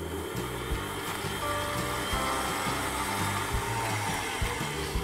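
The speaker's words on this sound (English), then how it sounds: "I'm just going to beat that together on a medium to high speed for about 5 minutes until it's gone really pale and fluffy" An electric mixer beats butter and caster sugar at medium-high speed, giving a steady, close whirring motor drone with a faint rhythmic churn that runs unbroken throughout.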